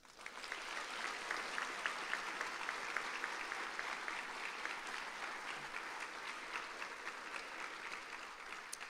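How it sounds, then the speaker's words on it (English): Audience applauding at the Harlingen School of Health Professions 2021 graduation ceremony: a steady, even wash of many hands clapping, sustained for several seconds with no talk. "Audience, please join me in applauding their efforts."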